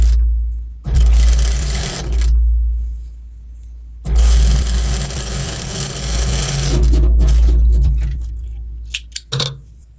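Sewing machine stitching a bra cup, two loud close bursts of rapid stitching with a low motor hum and a short pause between, ending in a few clicks.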